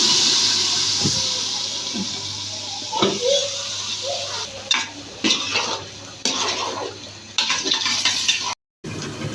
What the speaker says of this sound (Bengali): এখন দিয়ে দেবো রসুন আর পেঁয়াজ, দিয়ে দেবো তেল। আমার সুন্দর লাল করে ভেজে নেওয়া শেষ।